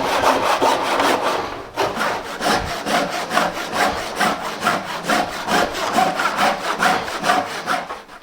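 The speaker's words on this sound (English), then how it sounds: "We'll now come through with a good old-fashioned hand saw, crosscut saw, and we'll finish this baby off." A good old-fashioned hand crosscut saw rasps through a piece of timber on a workbench, with fast, even back-and-forth strokes, close and loud, and no talking.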